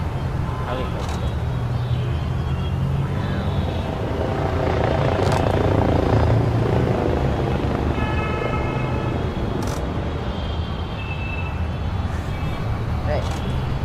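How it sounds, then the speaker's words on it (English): A helicopter drones steadily overhead at an outdoor rugby league sevens event, its rotor rumble loud and continuous throughout while people talk nearby. "Helicopter."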